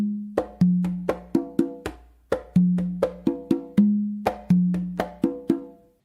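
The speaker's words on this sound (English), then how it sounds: "But that slap, again, that's what's triggering the whole tumbao all over again." A conga tumbao loops continuously, each cycle restarting with a crisp close slap followed by ringing open tones and lighter strokes, forming a steady, driving groove played alone.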